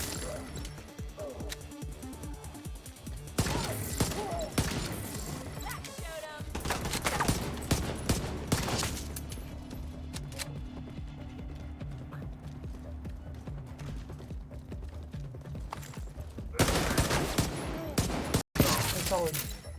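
Gunfire bursts in The Division 2, a loud clatter of rapid shots in the opening seconds and again near the end, with quieter, steadier game noise between them.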